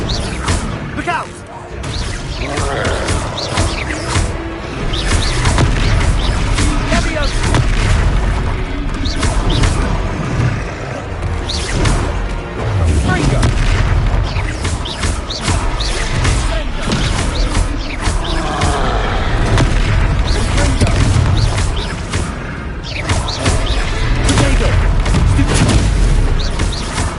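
Confringo blasting spells explode again and again in a Hogwarts video game battle, heavy booms and crashes layered with whooshes and game combat noise, while character voices shout over the din.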